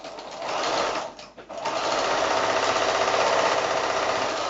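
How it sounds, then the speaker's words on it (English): A sewing machine runs a quarter-inch seam on quilt blocks, a fast, steady close-up whir that dips briefly near the one-second mark, then continues loud and unbroken to the end. "So I'm going to sew that with a 1/4 inch seam down one side"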